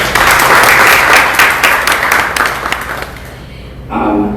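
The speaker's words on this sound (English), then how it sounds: "So can we please give them another round of applause?" A stadium crowd at a Reign FC World Cup homecoming soccer game gives loud, dense applause that gradually fades, and a voice comes in just after it dies down.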